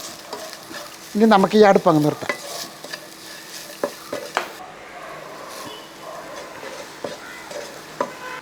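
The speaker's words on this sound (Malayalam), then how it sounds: "ആ ശർക്കര ഇട്ടതിന് ശേഷം ഒന്ന് ഇളക്കി നല്ലപോലെ ഒന്ന് മിക്സ് ചെയ്തെടുക്കുക" Jaggery being stirred into a chammanthi chutney mixture in a pan, with soft scraping strokes and faint sizzling close by; someone speaks briefly near the start.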